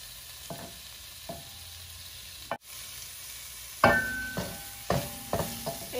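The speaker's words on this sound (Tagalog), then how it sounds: "Haluin natin ang hipon." Shrimp for sautéed chayote is stirred in a hot pan, with a steady sizzle under a series of sharp scraping and clacking strokes from a utensil, close and fairly loud, no talking.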